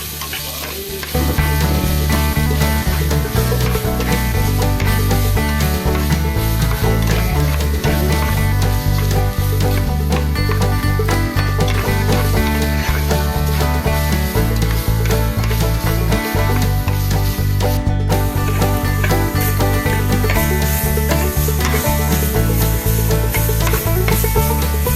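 Onions and green chillies sizzle and fry steadily in hot oil, stirred now and then for a spicy pork fry, a continuous close crackle and hiss with no voices.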